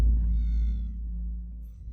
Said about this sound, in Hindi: पापा, एक जंगली बिल्ली थी